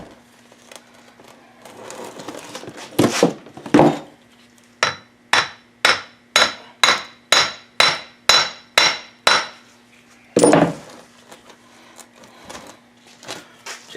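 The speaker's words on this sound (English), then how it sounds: "So I'm going to try to tap on the oil nut." Hammer tapping on the oil nut during a teardown of a Yamaha WR426F engine: a dozen sharp metallic strikes in a steady rhythm, with a few heavier knocks before and after, close and loud with no talk.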